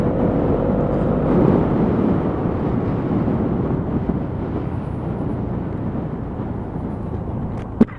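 Road traffic rushes past a Lexmoto Aura motorcycle on a ride test, a loud continuous roar of passing cars and wind buffeting, fairly constant throughout with a sharp knock near the end.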